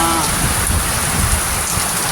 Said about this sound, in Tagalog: magpapalay, magsasakaan dito na yung ating hinihintay ng ulan.